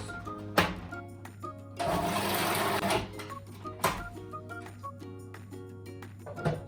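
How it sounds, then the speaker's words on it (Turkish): A food processor blends chocolate hazelnut spread in a brief, loud whirring burst of about a second, set between quieter background music. "Şimdi bunu makinemizin içine götürüyoruz Ve makinamızı çalıştırıyoruz."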